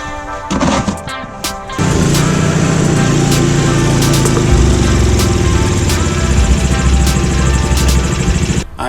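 A Troy-Bilt snowblower's engine catches after a few clunks, then settles into a loud, steady, close mechanical roar that runs unbroken to the end.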